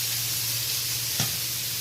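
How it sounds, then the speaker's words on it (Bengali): Onion and tomato sauté in a pan with a steady, close, even sizzle and one brief spatter or stir near the end. No voices. "এই দেখুন পেঁয়াজটা টমেটোটা বেশ নরম হয়ে এসেছে, আরও 2 মিনিট আমি ভালো করে কষিয়ে নেব।"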